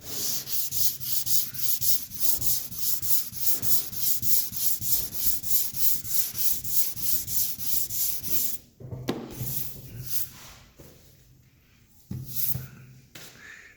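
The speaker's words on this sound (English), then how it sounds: "So all you got to do is completely sand it out." Rhythmic back-and-forth sanding of a clear coat on a custom painted Puerto Rico flag, steady rasping strokes for about eight seconds, then slower, more scattered rubs.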